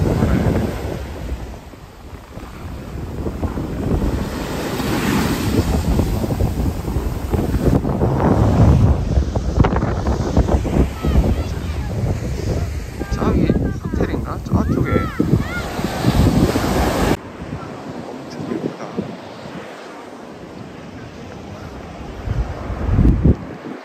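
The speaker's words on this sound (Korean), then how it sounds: "파도 한번 볼까요?" Ocean waves break and wash ashore at Jungmun beach, rushing surf mixed with heavy wind buffeting on the microphone, loudest in the middle then easing off, with people talking nearby.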